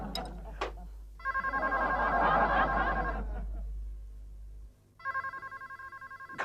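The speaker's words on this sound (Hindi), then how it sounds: "घंटी बज रही है" An office telephone rings in bursts, a bright trilling bell repeating in two clear rings with a pause between, close and prominent over a low background hum.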